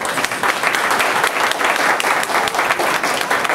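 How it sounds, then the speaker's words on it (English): A youth board and youth council meeting audience applauds steadily, a dense, even wash of many hands clapping at close range for several seconds with no pause. "A big round of applause for the..."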